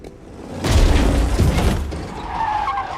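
A car screeches in a sharp tire skid on a road, followed by a heavy impact and rumble as it hits a man, with a tense high tone ringing after.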